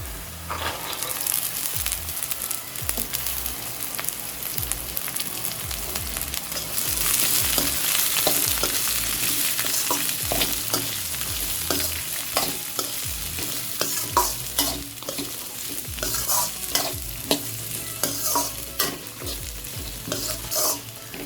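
Cut green beans stir-fried in oil with softened onions for a Tamil beans poriyal, a steady close sizzle broken by repeated scraping stirs of a spoon against the pan, with no talking.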